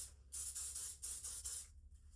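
Heat protectant spray misted onto a wig in three quick, close hissing bursts.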